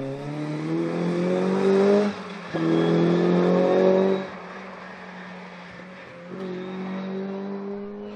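A rally car revs hard as it slides around a seafront stage, its engine rising and falling in two loud pulls, then settling to a lower, steadier drone before picking up again.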